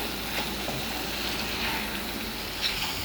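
Chicken Mughlai masala with roasted ground cumin sautéing over medium flame in a pan: a steady, soft sizzle with faint scraping of stirring, constant throughout and without voices.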